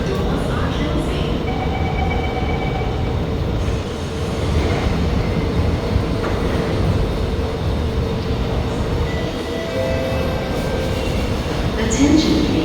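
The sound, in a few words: SMRT metro train doors closing and departing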